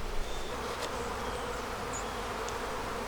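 Honey bees buzz in a dense, steady drone from an open beehive, close and continuous, with occasional individual bees passing nearby.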